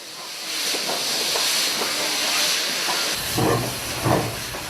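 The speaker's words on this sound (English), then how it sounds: "On this occasion in 1972, Peckett W5 class 1676 from 1925 was in action." A 1925 Peckett W5 class steam locomotive, number 1676, works at a Welsh colliery, giving off a loud continuous hiss of escaping steam with a few rhythmic chuffs near the end.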